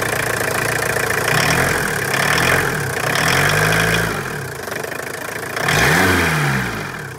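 A 1.6 diesel engine fuelled with cooking oil idles roughly up close, its steady clatter broken by a few brief revs that swell and fade.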